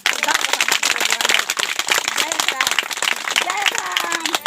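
Loud, rapid hand clapping from a group at a prayer and worship gathering, a dense patter of claps that runs throughout with voices mixed in.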